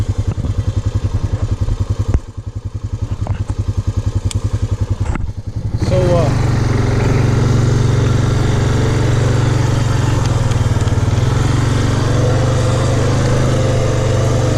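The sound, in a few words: Honda Fourtrax quad (ATV) engine running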